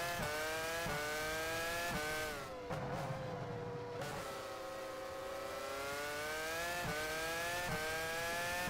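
McLaren F1 race car engine in the racing game F1 Challenge 99-02 during the 2004 European race: a sustained high-pitched engine whine that rises through revs, with several abrupt gear-shift drops and a brief dip in the middle.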